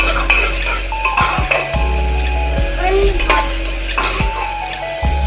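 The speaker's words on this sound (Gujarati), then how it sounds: "બરોબરનું હવે મિક્સ કરી લઈશું, જોઈ શકો છો મિત્રો।" Kathiyawadi chana-moong dal sizzles loudly in a pan as salt and chili are stirred in, with repeated metallic clanks and scrapes of the spoon against the pan over continuous frying crackle.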